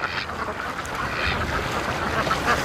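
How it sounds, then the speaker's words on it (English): Geese squabbling by a lake, a dense, continuous jumble of harsh honks and cackling calls from several birds at moderate distance, with no clear pauses. "Oh, we got some geese fighting over here."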